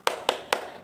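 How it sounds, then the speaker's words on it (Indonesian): A primary school class does the tepuk semangat rhythmic clap, three crisp, evenly spaced hand claps close by in quick succession. "kita tepuk semangat dulu ya"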